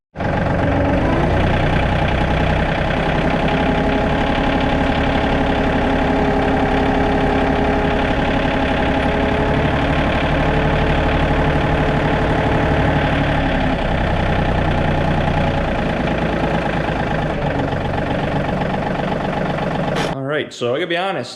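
A John Deere 2032R compact tractor engine idles outdoors with a loud, steady, continuous drone and a dense mechanical rumble that holds for about twenty seconds before cutting off abruptly near the end.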